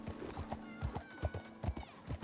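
Horse hooves clip-clop in the open-world video game Red Dead Redemption 2, a brisk run of close, uneven thuds repeating about every third of a second, with a faint whinny-like tone in the background.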